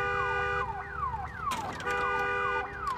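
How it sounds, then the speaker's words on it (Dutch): A car alarm in the Days Gone video game wails loudly nearby, with repeating falling-pitch sweeps and a steady tone cycling without pause, broken briefly by a clattering hit midway. "Misschien is het handig om even het alarm uit te zetten."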